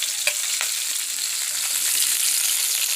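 Fish half-fried in hot oil for an Assamese curry sizzles steadily with a dense, bright crackle, plus a few soft clinks of stirring near the start.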